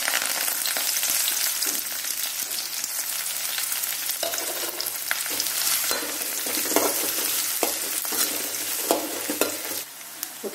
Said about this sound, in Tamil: இப்போ வந்து நம்ம எடுத்து வச்சுருந்த இந்த கருவேப்பிலை வெங்காயம் வந்து இதில் வந்து போட்டு நம்ம நல்லா வணக்க போகிறோம்